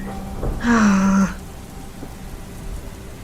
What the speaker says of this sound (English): kinda creepy being here all alone with the rain pouring down like